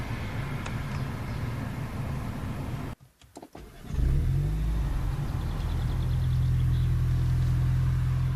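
A Mini Cooper S in sport mode: steady engine and road noise, a short drop to near quiet, then a loud low surge as the engine pulls hard and holds a strong rising drone.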